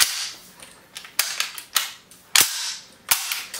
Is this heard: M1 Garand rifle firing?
yes